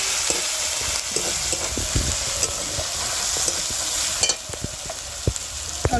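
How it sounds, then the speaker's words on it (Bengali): Coriander, cumin, turmeric and chilli powders fry in a pan for young-jackfruit biriyani, a steady close sizzle with occasional sharp clicks of a stirring spoon, no voices. "একটু ভেজে নেব।"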